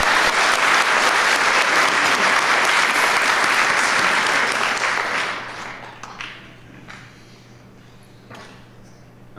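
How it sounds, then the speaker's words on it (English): An audience at a school spelling bee claps loudly in dense, sustained applause for about five seconds before it thins into scattered claps and fades into a quiet room. "Once again, a round of applause."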